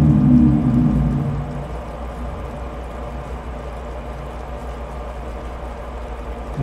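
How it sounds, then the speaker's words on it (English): A vehicle engine rumbles outside, a low steady drone that is louder at first and then settles into a softer continuous hum, heard from indoors with no talking. "All you can hear is their vehicle sometimes."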